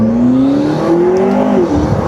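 A 2012 McLaren MP4-12C 3.8 Spider revs hard under acceleration, a loud, close engine note climbing steadily in pitch, dipping briefly at a gear change, then pulling up again.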